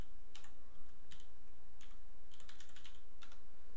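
Typing on a computer keyboard while setting up a horizontal control in a game-physics car tutorial: a few quick bursts of close, crisp key clicks in a quiet room with no talking.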